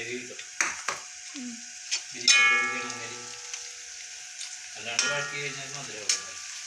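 Onions sizzling in a hot pan with occasional stirring scrapes and clatters, fairly close, with some faint background noise between bursts.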